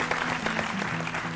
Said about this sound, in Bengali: ওনার জন্য একটা করতালি হোক।